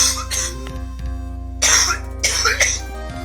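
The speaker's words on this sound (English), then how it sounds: "I have to cough." Several close, loud coughs come in bursts, one early and then two more later, over a steady low hum and faint game music.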